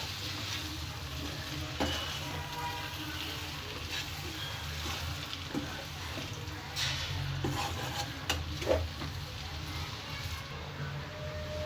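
Egg and vegetable mixture with fresh coriander slow-cooking in a pan over a low flame, with a soft steady sizzle and intermittent stirring scrapes and light utensil taps, close and fairly quiet.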